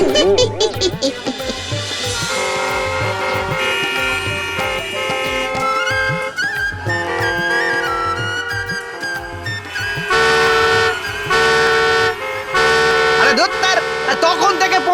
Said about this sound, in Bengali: বো করে হর্ন মেরেই যাচ্ছে এটা কিরকম অসভ্যতা